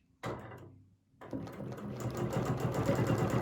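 A sewing machine stitches with a ruler foot, starting with a short burst, pausing for a moment, then running continuously in a steady, fairly close mechanical buzz.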